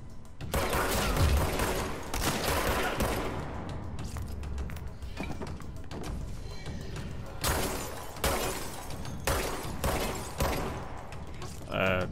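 Gunfire and shattering glass in the video game Control, with dense bursts of shots and breaking impacts continuing loudly for several seconds.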